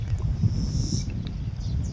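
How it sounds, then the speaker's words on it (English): An Ethiopian cisticola calls high and clear for about a second, then a few shorter notes, over a steady low rumble of wind and distant engine noise in Turkana County, Kenya. "that's an Ethiopian cisticola calling."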